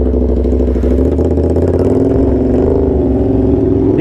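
A loud motorcycle engine runs close by, a steady, throaty rumble with slight shifts in pitch as it cruises.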